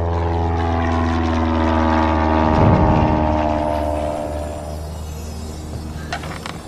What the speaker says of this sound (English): Unidentified aircraft approaching Isla Sorna.